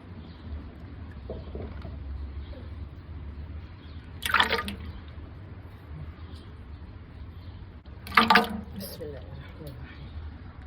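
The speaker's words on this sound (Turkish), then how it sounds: "Şimdi yoğurdumuzu boşalttık." Strained salted goat milk yogurt emptied from a bag into a pot, giving two brief wet, sloppy splashes a few seconds apart over a low background hum.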